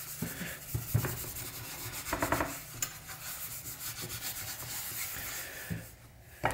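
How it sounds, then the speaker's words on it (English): Scotch-Brite abrasive pad scrubbing rusted, scaled parts of a Richards Wilcox woodworking vise: close, scratchy rubbing strokes in uneven bursts, with a few louder knocks as the metal pieces shift. "I'm actually gonna scrub these first with a Scotch-Brite pad just to kind of loosen up some of that scale"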